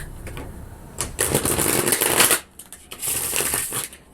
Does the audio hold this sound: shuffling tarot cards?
yes